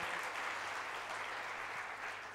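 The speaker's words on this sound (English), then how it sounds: "let's give a big round of applause for this brave brother, Mr. Zaraif Hossain." Audience applause for a man who has just shared a sad, inspiring personal story at a gathering, a steady, fairly faint wash of clapping lasting the whole moment without any voices.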